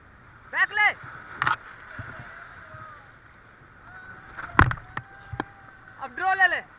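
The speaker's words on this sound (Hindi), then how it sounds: "हाँ, अब पैडल चलाओ, चलो।" Rafting paddles splash and slosh through Ganga river rapids while several people shout and call out commands over the rushing water, with sharp paddle strikes standing out between the voices.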